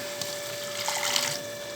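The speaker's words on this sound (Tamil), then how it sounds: "ஒரு டம்ளர் தண்ணி ஊற்றிக்கிறேன்" Water pours steadily into a tumbler for a moment, a soft splashing stream that swells briefly in the middle before tapering off.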